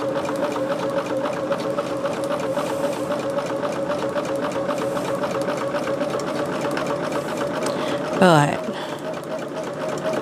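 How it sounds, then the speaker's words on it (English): A sewing machine stitches half square triangles in a fast, steady mechanical whir that runs without a break, close and loud, while someone speaks over it and a brief squeak sounds near the end. "let's sew, guys. Let's sew."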